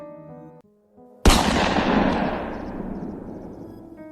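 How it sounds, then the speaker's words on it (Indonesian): A single gunshot sound effect cracks suddenly and loudly after a few brief musical tones, then rolls away in a long, echoing decay. "Suara senapan terdengar begitu kencang"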